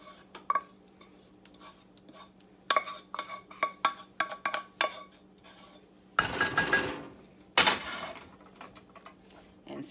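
A spoon stirs a loaded cauliflower casserole mixture in a bowl, a series of close, rhythmic scrapes and clinks, followed by a few louder bursts of scraping and knocking against the dish.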